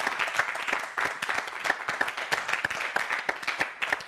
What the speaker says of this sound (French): Applaudissements encore pour KDC.